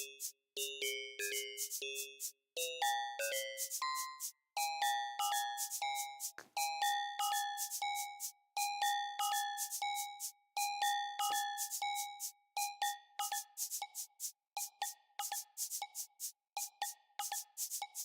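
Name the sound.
synthesized cowbell pattern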